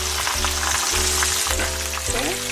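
Pork chops sizzle loudly in a hot pan on a stove turned up high, a steady close frying hiss with faint crackles running the whole time and no talking.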